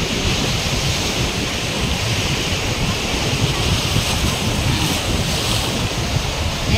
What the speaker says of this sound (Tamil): பீச் அலை அடிக்கிறது வருதா